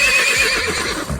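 One close, loud horse neigh rings out, a high quavering whinny lasting about a second before it breaks off with a low huff.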